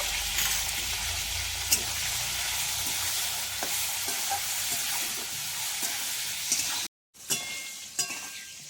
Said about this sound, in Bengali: নুন হলুদ দিয়ে ফুলকপিটা ভেজে নেব।